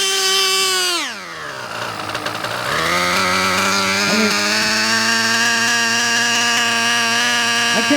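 A Novarossi .21 nitro RC engine (TNS modified Elite 8) idling rich during break-in: a loud, buzzing high-pitched drone that dips briefly in revs, then settles into a steady, slightly uneven idle with harmonic whine.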